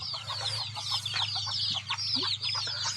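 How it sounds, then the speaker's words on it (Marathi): Several free-range country hens in a shed cluck in overlapping, busy bursts with chirpy high calls, close by and continuous, with a steady low hum underneath. "आपण आता मेन शेडमध्ये एक कोंबडी आहे"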